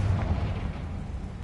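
A Confringo fire spell blasts in Hogwarts Legacy, a deep rumbling explosion with a heavy low-end boom that lingers at a steady, loud level for over a second, with no talking over it.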